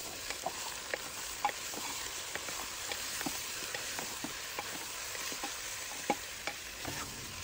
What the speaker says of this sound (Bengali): যেহেতু পেঁয়াজ ও মাংসটা একসাথেই তেলের মধ্যে কষিয়ে নিচ্ছি